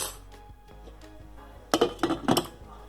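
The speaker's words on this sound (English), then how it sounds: "Lid back on." A metal pot lid clinks and rattles a few times as it settles back onto a pot of blackberry cordial on the stove, close and fairly quiet.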